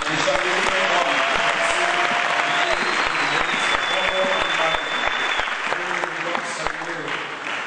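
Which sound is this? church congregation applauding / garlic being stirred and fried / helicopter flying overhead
church congregation applauding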